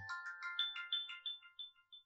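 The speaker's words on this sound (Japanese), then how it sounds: "スマホがちょっと鳴ってました。" A smartphone timer alarm plays a bright chiming ringtone melody, a quick sequence of clear electronic tones that thins toward single notes, heard alone.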